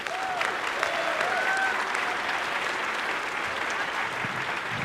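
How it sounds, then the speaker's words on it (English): An audience at a 2023 CHS honors convocation applauds the honorees, a steady wash of clapping that holds at a constant level throughout, with faint tonal sounds drifting over it. "One more round of applause for all the honorees, please."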